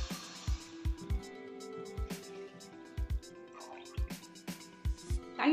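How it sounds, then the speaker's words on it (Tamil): Water drips and trickles into a nonstick pan in a series of separate splashes spaced about half a second apart, close and quiet, as two tumblers of water go in for a corn flour halwa. "அதே அளவு தண்ணி ஊற்றிக்கோங்க."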